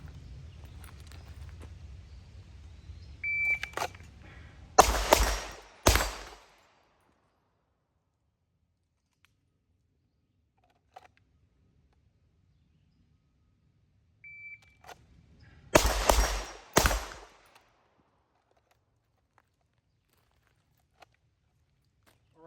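Pistol shots ring off steel targets during a shooting drill outdoors, two tight clusters of quick, sharp shots separated by long quiet gaps, with faint ambient noise between.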